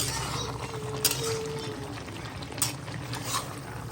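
Water being poured into a pot of chicken curry, a steady close trickle over broad cooking noise, with a couple of brief clinks.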